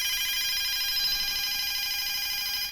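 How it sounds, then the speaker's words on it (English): A DSE FP-200 telephone under repair gives off a constant, unbroken electronic ringing tone, loud and close, steady throughout with no pauses or talking. "when that is on, we do get like just a constant ringing sound"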